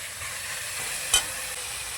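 A spice paste fries in a pan as a faint, even hiss, broken once by a single sharp tap of a utensil midway through.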